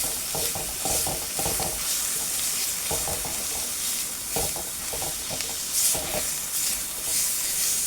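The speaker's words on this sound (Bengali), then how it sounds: "লাউ পাতাটা দিয়ে ভালোভাবে তেলের সাথে মিশিয়ে নেব" Bottle gourd leaves stirred in hot oil in a pan, a steady close sizzle broken by repeated scraping strokes of the spoon, with no talking.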